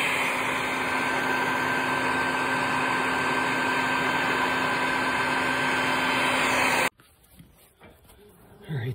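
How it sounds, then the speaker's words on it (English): A vacuum with an attachment drones steadily and loudly while sucking out a yellowjacket nest from a cinder block wall, then cuts off abruptly near the end, leaving faint room noise. "All right, so I used a vacuum attachment."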